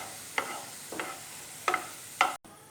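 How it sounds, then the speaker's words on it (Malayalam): Raisins frying in hot oil in a pan for a chicken biryani, with a soft steady sizzle under four distinct scraping stirs of a spoon at irregular intervals, no talking. "ഉണക്കമുന്തിരി ഒന്ന് ഫ്രൈ ചെയ്തെടുക്കാം."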